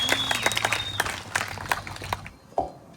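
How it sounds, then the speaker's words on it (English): A rally crowd in Bundaberg gives a round of applause, with individual claps audible over a steady background hum, fairly close, tapering off toward the end. "Could everyone please give Dean and Scotty a warm round of applause"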